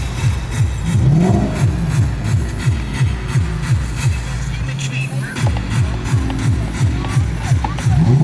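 An R32 car at an outdoor car show in Bo'ness, its engine repeatedly revving and rising in pitch as it drives past, loud and close, with speech briefly heard over it.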